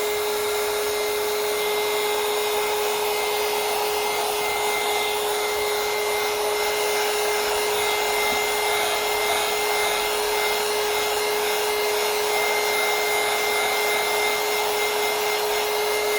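A heat tool blowing hot air onto transparent cellophane to shrink it for epoxy resin jewelry, a loud steady close whooshing drone with a constant whine running unbroken throughout.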